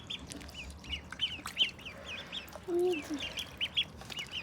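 Ducks being fed bread on a balcony in Kocaeli, Turkey, give scattered short quacks and honks at close range, mixed with faint chirps and small clattering noises.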